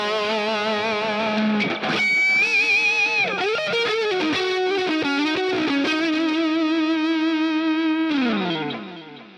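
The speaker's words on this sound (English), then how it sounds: "I like ping pong delay in stereo." Distorted electric guitar played through a NUX MG-30 processor with stereo ping pong delay, sustained bent notes and chords trailing repeating echoes, loud and continuous before fading at the end.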